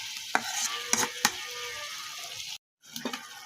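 Stirring ingredients in a hot pan while frying on a village kitchen stove, with a few distinct scrapes and clinks of the spoon over a soft sizzle, then a brief drop to silence before more stirring.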